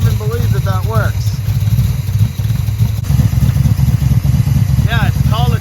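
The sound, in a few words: 1973 Dodge Dart Swinger drag car engine cold start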